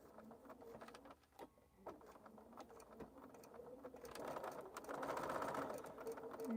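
A sewing machine stitches through a quilt up to a pin, its motor whirring steadily at close range and growing louder toward the end, with quiet talk from a woman alongside.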